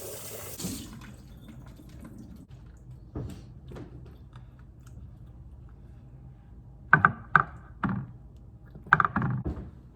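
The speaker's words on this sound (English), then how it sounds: "I'm just going to rinse the fish off." Raw salmon rinsed under a running kitchen tap: a soft, steady stream of water with a few louder splashes and clunks near the end.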